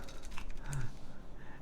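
Typing on a Haven60 mechanical computer keyboard gives quick, quiet key clicks in an uneven rhythm, close but low in level, with faint voices in the background.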